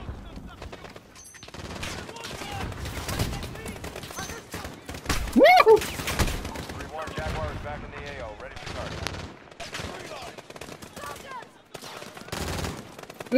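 Gunfire from the video game Call of Duty Modern Warfare: dense, rapid bursts of automatic weapons and shots, loud and close, almost continuous with a few louder blasts, with a voice talking over it.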